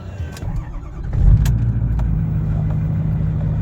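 A Cummins 5.9 12-valve diesel engine swapped into a Ford truck turns over and catches, then settles into a steady low idle close by, with no talking.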